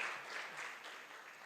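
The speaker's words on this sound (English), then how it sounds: "give yourselves a round of applause" Students at a university workshop on gender-based violence applaud together, a steady dense wash of clapping that fills the whole moment without voices.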